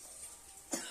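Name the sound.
person coughing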